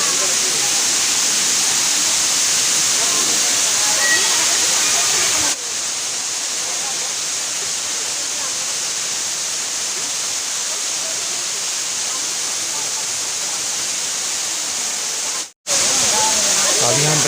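Pradhanpat waterfall in Deogarh roars steadily and loudly, a dense unbroken rush of falling water that fills the whole scene from start to finish.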